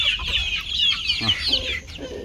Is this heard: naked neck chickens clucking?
yes